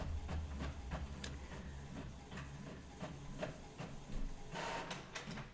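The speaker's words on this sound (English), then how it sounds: "So I can hear my printer in the background." An inkjet printer running a sticker sheet print job, with a steady mechanical whir and repeated rhythmic carriage passes and clicks throughout, close by and fairly quiet, with no talking.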